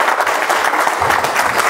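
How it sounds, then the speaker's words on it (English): An audience applauds, a dense, steady wash of clapping that stays loud and even throughout. "Give her a good round of applause, please."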